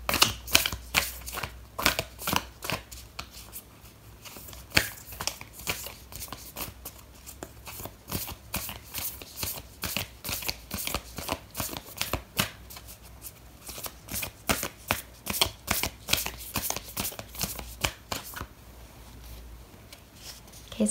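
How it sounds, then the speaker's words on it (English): Oracle cards shuffled by hand for a tarot reading, a steady run of crisp, close riffling flicks and slaps repeating for about twenty seconds with no voice over them. "I'm going to pull out an oracle card for you"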